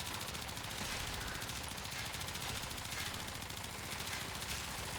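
Kuva Twin Stubbas fire in Warframe, a relentless rapid stream of automatic shots that holds a dense, even rattle for the whole stretch, quiet in level.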